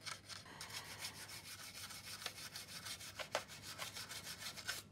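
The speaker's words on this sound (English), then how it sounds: "It's a really nice, smooth sanding action." Plastic part for a Tamiya 1/32 Mosquito scale model being sanded, quick rhythmic back-and-forth rasping strokes heard up close and fairly quiet, with no voices.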